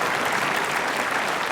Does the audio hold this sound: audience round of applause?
yes